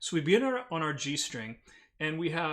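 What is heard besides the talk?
No everyday noise stands out behind the speech.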